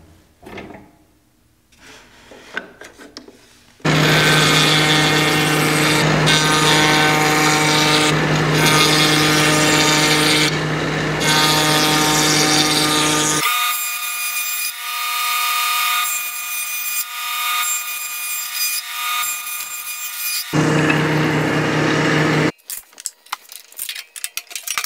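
Power tool cutting wooden dowels guided along a fence, a loud sustained whine with harmonic tones that runs for about twenty seconds, changes pitch partway through, then stops, with quieter handling noises before and after.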